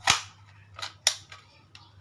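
A toy gun firing with sharp, snappy cap-like cracks: three loud shots in quick succession followed by a fainter fourth, with a low hum underneath and no voices.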